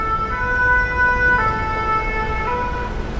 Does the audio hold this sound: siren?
yes